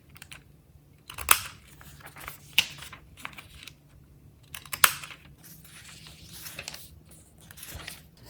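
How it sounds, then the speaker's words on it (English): A corner rounder punch rounding the corners of paper pages for a travel journal, a few sharp close clicks spaced several seconds apart with faint paper rustling between, no talking. "I prefer the rounded corner look, and I have this corner rounder from Amazon."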